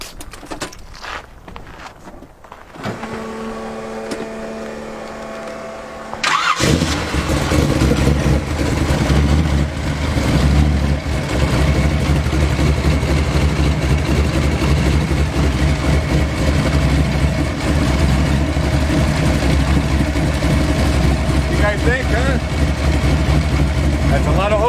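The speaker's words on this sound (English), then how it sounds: "I'm going to start it up." A car engine cranks, catches and settles into a steady, loud idle at a car show, with low rumbling throughout and people talking near it.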